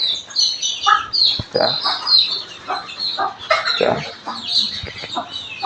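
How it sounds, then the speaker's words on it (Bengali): A mother hen among a brood of twenty-two young chicks drinking water gives close clucks over a steady stream of high, overlapping chick peeps throughout. "এটা হচ্ছে আমার মুরগি বাচ্চা"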